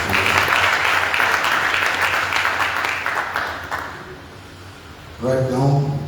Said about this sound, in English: Please let's give our Vice Chancellor another round of applause.